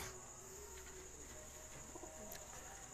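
Tournament racing pigeons coo softly on a rooftop in a few low, murmuring calls over a steady background hum.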